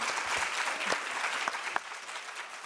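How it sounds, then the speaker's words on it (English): An audience applauds a panel at a workshop, steady crowd clapping with a few sharper nearby claps standing out, continuing at an even level. "Can we just give them a round of applause for being an amazing panel?"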